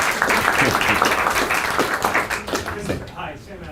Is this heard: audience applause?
yes